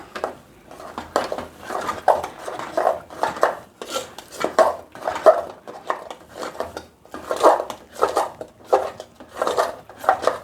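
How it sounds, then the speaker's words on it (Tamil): Sweet pongal with cardamom being stirred in a pan, a spoon scraping and knocking against the metal in a steady, rhythmic series of close, clear strokes with no voices. "பொங்கல் அதில் போட்டு நன்கு கிளறி விடவும்."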